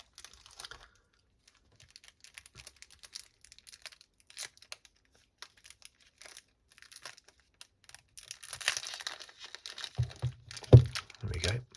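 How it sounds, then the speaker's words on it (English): Plastic wrap being peeled off a Star Wars playing card pack by its pull tab, soft scattered crinkles that build into louder, denser crinkling and tearing near the end, with a quiet voice nearby. "Each pack even has a little tab that you can pull to easily unwrap it."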